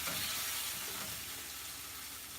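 Lamb liver and onions frying in oil in a home pan, a soft, steady sizzle and hiss heard close and quiet with no talking.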